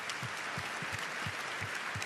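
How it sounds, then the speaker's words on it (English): A crowd at Arnold Schwarzenegger's climate summit in Austria applauds the panels, producing a steady, dense wash of clapping that runs throughout. Low thumps recur under it roughly every third of a second. "a round of applause for all the panels we've seen"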